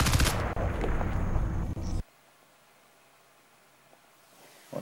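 Dense, loud burst of automatic gunfire from a Crysis 3 multiplayer match, rapid overlapping shots for about two seconds before cutting off abruptly into near silence.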